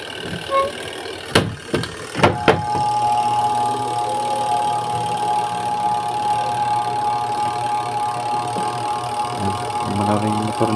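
A Haier washing machine's spin-dry motor, newly replaced, runs at a steady, even spin with a continuous close hum, preceded by a few sharp knocks and clunks at the start.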